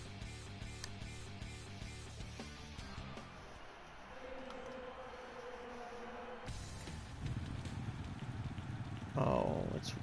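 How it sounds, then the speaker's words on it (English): Rain falls in a Supercross motocross racing game during an Anaheim 2 race, a soft hiss of drops under game music and menu sounds, with a person talking at points. "Oh, it's raining."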